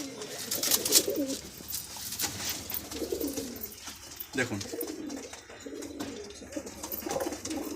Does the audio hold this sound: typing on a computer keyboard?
no